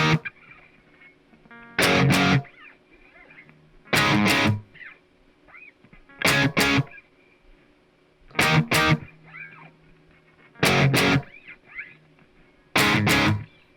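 Two distorted electric guitars play the same verse part, striking power chords in loud paired hits separated by short quiet gaps, six times over.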